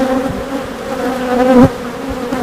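Honeybees at an open hive during an inspection of a queenless colony, a dense continuous buzzing drone close by that swells briefly, with no talking.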